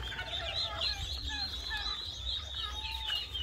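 Turkeys kept with native chickens on a ranch gobble faintly during feeding, with thin chirping calls scattered throughout and the birds sounding somewhat distant.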